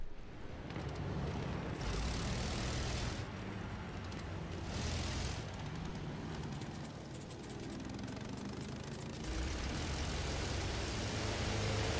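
Enemy bomber aircraft in Battlefield 1 droning overhead, a steady low engine rumble with swelling passes and bursts of noise, continuous and fairly loud with no voices.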